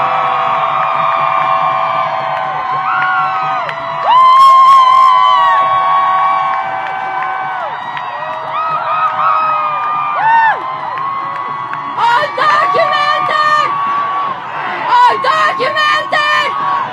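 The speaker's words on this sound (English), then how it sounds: "Let's give them a cheer." Outdoor rally crowd at the Supreme Court for DACA plaintiffs, dense cheering, whooping and shouting from many voices at once, with loud bursts of yells swelling repeatedly over a continuous crowd roar.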